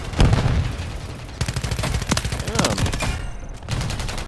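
Rapid automatic gunfire from an AMR9 rifle in the shooter Modern Warfare 3, several sustained bursts of close, sharp shots separated by brief pauses.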